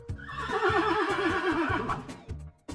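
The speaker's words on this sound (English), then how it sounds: "Horse." A horse gives one long, loud neigh up close, a wavering whinny that rises and trembles before trailing off, with a low rumble of background under it.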